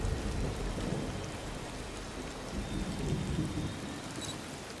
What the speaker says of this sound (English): I want to go in so we can wrap up because it's raining too hard.